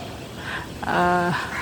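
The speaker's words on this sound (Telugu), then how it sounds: "అదిగోండి కాకి" A single harsh crow caw rings out nearby, loud and brief, over a low outdoor background hum on a cloudy rainy-season day.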